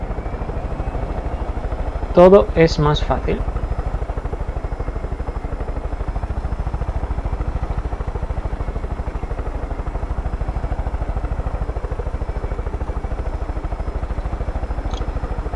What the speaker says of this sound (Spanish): De verdad, todo es más fácil con este helicóptero.